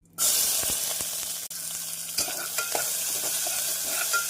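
Chopped onions hit hot oil with a sudden loud sizzle that keeps crackling steadily, with occasional stirring scrapes, while cooking drumstick tamarind curry.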